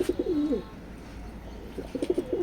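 Racing pigeons cooing close by, two bursts of soft throaty rolling coos at the start and end with quieter rustling and background noise in between.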